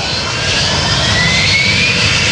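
A Harrier jet's engine spools up for takeoff at an air show, a loud steady roar with a rising whine that holds throughout.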